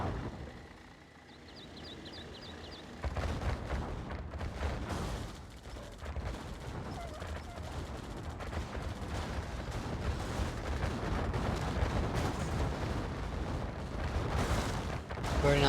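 Cannons fire in a strategy video game during a busy battle, giving a dense run of booming blasts and rumbling impacts that thicken and grow louder over the stretch, mixed with game effects and no clear talk.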